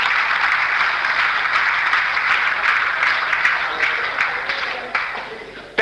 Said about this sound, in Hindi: एक बार तालियां बजाएं आपके लिए